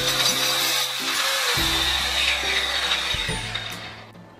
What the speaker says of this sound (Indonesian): Jadi mata circle ini sangat cocok, sangat bagus untuk pemotongan kayu.